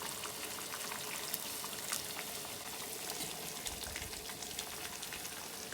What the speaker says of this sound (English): we're going to put some of the pasta water in